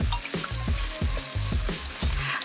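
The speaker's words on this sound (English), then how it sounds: "Add a majority of chopped green onion and cilantro. Stir around for a few seconds and remove from the heat." Ketchup shrimp with chopped green onion and cilantro stir-fried in a hot pan, a close sizzle broken by rhythmic scraping strokes of the spatula, with no voices.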